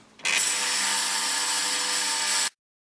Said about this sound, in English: We'll throw them in the ultrasonic cleaner. We'll turn it on to 10 minutes.